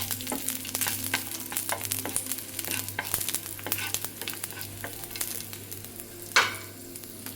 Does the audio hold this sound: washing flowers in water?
no